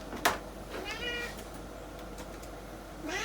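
A cat meows a few times at close range in a quiet indoor room, the short calls spaced across a soft background hum.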